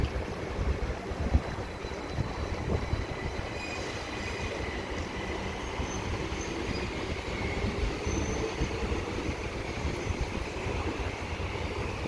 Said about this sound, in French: Deze metro is lijn 52, richting Noord.